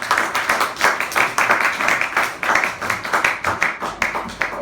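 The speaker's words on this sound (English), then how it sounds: "Could be applause going to Alex Williams" A small open-stage audience applauds a performer, with distinct, fairly close hand claps in an irregular patter that continues throughout.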